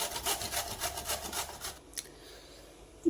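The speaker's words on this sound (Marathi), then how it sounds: "तिथे हे या पद्धतीने भोपळा किसून घेत आहेत" Bottle gourd (dudhi) grated by hand, a rapid run of rhythmic rasping strokes for about two seconds, then quiet with one faint scrape.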